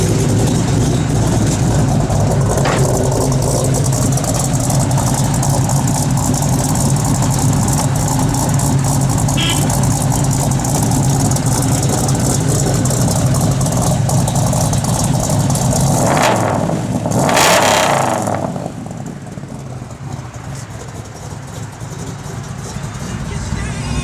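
A 1973 Plymouth Barracuda engine with an aggressive cam runs close by, idling with a loud, choppy, lopey rumble and a brief blip of revs before settling, while people talk beside it.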